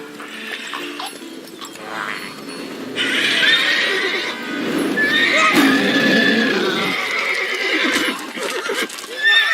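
Roach, Geralt's horse in The Witcher 3, neighs and whinnies loudly and repeatedly, with hooves clip-clopping close by, sounding alone with no talk over it.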